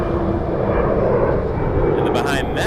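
A regional jet takes off at Toronto Pearson Airport, a loud, steady roar of jet engines that rises in hiss toward the end, with a voice talking over it.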